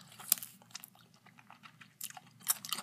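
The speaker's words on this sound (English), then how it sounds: "I'm eating Doritos" Doritos tortilla chips are crunched and chewed up close, with sharp irregular bites and crackly crunches over about three seconds against a quiet background.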